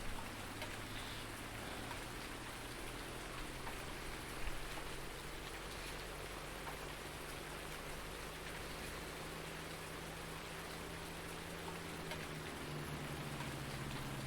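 Steady rain falls in the farming video game Farming Simulator 19, a soft continuous hiss of raindrops with a low machine hum beneath, faint and unchanging throughout, with no talking.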